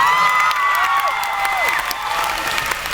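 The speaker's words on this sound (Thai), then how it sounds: "ช่วยปรบมือให้กับสปิริตของเขาหน่อยครับ" A crowd at a fan event game session for a Thai series applauds loudly and steadily, with high gliding cheers and squeals rising above the clapping.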